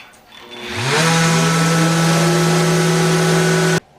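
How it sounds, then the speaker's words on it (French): A power sander spins up and runs steadily on wood while a magnetic knife board is being smoothed, loud and close with a constant droning tone for about three seconds before cutting off abruptly. "C'est le temps de sabler,"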